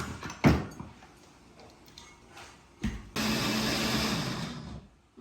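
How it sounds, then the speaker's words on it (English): A kitchen blender churns coconut in a steady, loud whir lasting about two seconds, preceded by a few clunks and knocks. "My blender just fight World War III."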